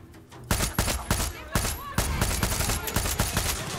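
Rapid bursts of automatic gunfire in the Far Cry 6 video game, sharp shots crackling close and loud in quick irregular volleys, with a voice occasionally under the firing.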